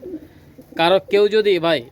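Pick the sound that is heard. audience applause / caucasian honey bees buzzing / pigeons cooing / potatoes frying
pigeons cooing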